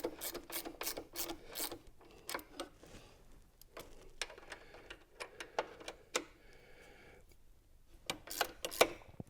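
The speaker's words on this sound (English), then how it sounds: "Ratcheting wrenches work really well for this." A ratcheting wrench with a low-profile ratcheting Allen setup, fitted with a Torx bit, clicks close by in quick irregular bursts of sharp ticks separated by brief pauses.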